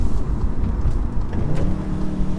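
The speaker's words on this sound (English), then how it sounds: "I love DSG farts" Engine of a 2015 VW Golf R 3-door with DSG gearbox, heard from inside as a continuous loud low rumble with throaty pops during a gearshift, no talking.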